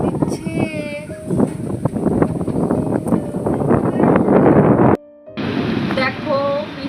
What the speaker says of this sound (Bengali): কি সুন্দর হাওয়া দিচ্ছে।